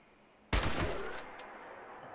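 Gunfire in the video game Fallout 76, a single loud shot or short burst that rings out and decays with a long echoing tail.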